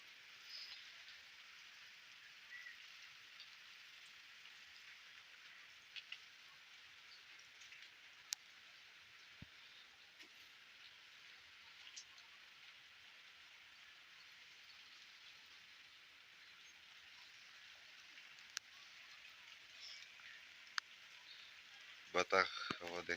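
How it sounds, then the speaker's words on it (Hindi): Steady rain patters continuously on surfaces in a village, a soft even hiss with occasional louder drips and ticks, ending with a few sharper taps. "बारिश शुरू हो चुकी है।"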